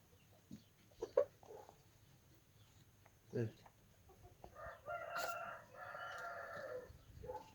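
A rooster crows in a drawn-out call, with scattered hen clucks beforehand, all fairly faint and close by.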